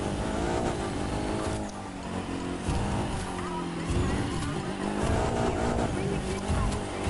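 A Land Eagle 6 car boosts with nitro while racing in The Crew 2, its engine roaring and revving at high pitch with shifting tones under steady play-by-play talk.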